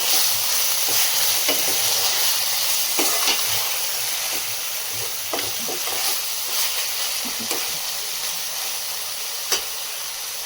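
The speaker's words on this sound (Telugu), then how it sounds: "ఇప్పుడు మనం ఒక 2 టమాటాలు చిన్నగా కట్ చేసుకొని ఇందులో వేసుకోవాలి. వేసుకొని బాగా కలుపుకోవాలి." Chopped tomatoes and onions sizzle in a pan for a fish curry base, a constant close frying hiss broken by repeated spoon scrapes and taps as they are stirred, no talking.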